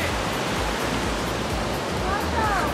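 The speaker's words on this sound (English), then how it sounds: "We have waterfalls." A Colorado waterfall roars as a dense, steady rush of falling water close by, filling the scene evenly without a break.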